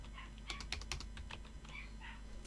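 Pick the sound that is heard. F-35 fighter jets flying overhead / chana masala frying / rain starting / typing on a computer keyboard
typing on a computer keyboard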